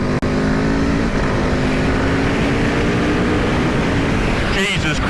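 A 2021 Aprilia RSV4 1100 Factory superbike engine roars loud and close, holding a hard, continuous high-revving drone for several seconds before a brief shift in tone near the end, with talk layered over it.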